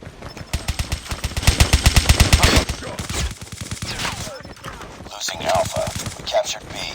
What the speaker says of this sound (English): It either be the Man of War shooting something big, or the S36 are shooting marshmallows.